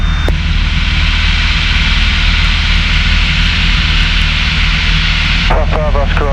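Piper PA28 light aircraft engine droning steadily in flight after departing Blackpool, a loud continuous cabin hum with a constant low throb, and a radio voice breaking in near the end.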